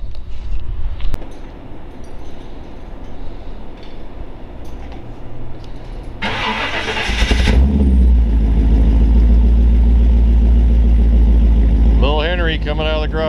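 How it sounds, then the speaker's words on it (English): A 1929 Ford Model A pickup resto-rod engine cold-starts after a light mechanical rattle and a short hissy burst, then settles into a loud, steady low idle that runs to the end, with faint background voices. "That's a cold start."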